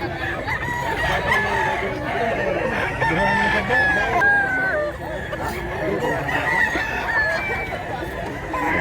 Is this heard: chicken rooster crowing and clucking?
yes